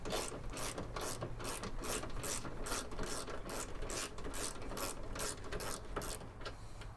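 A hand ratchet removes 12 mm bolts holding the horns on a Land Cruiser, giving a fast, even run of close, crisp clicking strokes that continues throughout with no talking.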